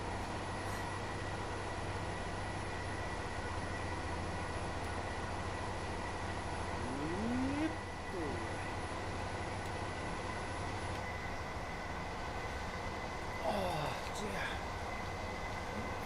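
A train rumbles along steadily in Train Simulator Classic, a low continuous drone with a brief rising tone midway and another near the end, a voice talking faintly underneath.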